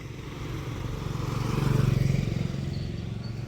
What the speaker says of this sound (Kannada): ಗಾಡಿಗಳಂತೂ ಬರ್ತಾನೇ ಇರುತ್ತೆ. ಎಷ್ಟು ಗಾಡಿ ಬರುತ್ತೆ ಅಂದರೆ ಅಷ್ಟು ಗಾಡಿ ಬರುತ್ತೆ